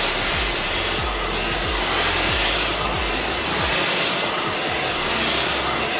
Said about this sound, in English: be careful not to hold the blow dryer in one section.